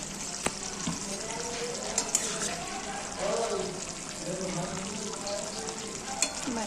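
Bottle gourd cooked with fried prawns sizzles softly in a pan as a spoon stirs it, with light scrapes and a few sharp clinks, and a voice speaks faintly over the cooking.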